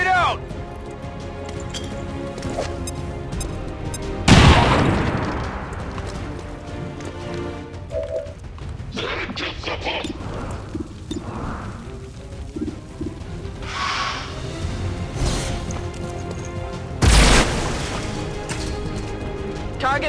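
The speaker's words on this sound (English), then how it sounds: "Grenade out!" Grenade explosions in the video game XCOM 2, two heavy booms several seconds apart over a busy background of game sounds and voiced combat callouts.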